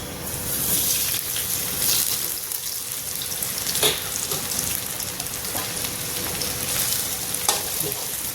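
French fries frying in oil over medium-low heat, a steady dense sizzle with bubbling that continues throughout, broken by a few sharp clinks and stirring scrapes, with no talking.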